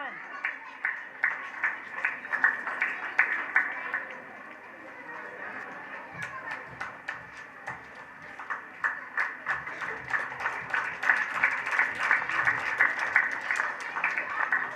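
Audience at a primary school's annual prize ceremony claps in rhythmic, fairly close bursts, the sound dipping briefly midway before a second long round of steady applause.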